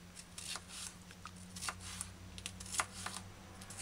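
A knife slices a sweet bell pepper into finger-length strips on a board, a run of light, quick crisp taps over a low steady hum, fairly quiet and close.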